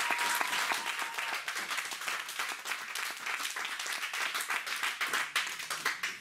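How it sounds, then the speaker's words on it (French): A church congregation applauding, dense sustained clapping from many hands at moderate distance, continuous for several seconds with slight swells and no talk over it. "Acclamons le Seigneur."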